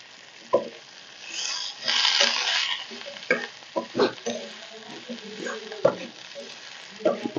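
Potatoes and broad beans sizzle softly for a spiced sabzi while a spoon stirs and taps the pan in scattered scrapes, close by and moderately quiet.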